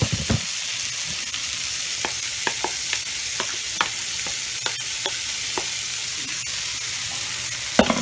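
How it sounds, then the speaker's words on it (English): Onion sauteing in melted butter in a pan gives a loud, steady sizzle punctuated by scattered utensil scrapes and taps, close up with no talking. "we're going to start melting that butter, but we're going to saute our onion right there in it"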